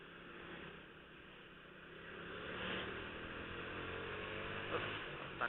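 A motorcycle rides through traffic, its engine a steady droning rumble with rising and falling swells of passing vehicles and wind noise, continuous and fairly close.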